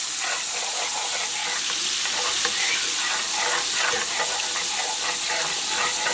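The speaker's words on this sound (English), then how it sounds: "Stir that around." Minced garlic sizzles steadily as it fries in a pan and gets stirred around, a close, continuous crackling hiss with faint scraping, with no talking.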